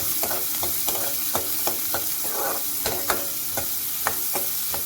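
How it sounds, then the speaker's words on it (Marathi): Chopped onion sautés in a pan for a Maharashtrian ridge gourd curry: a dense, close sizzle with regular spoon knocks and scrapes about twice a second, and no voices. "कांदा घालायचा आहे आपल्याला. कांदा परतायचा."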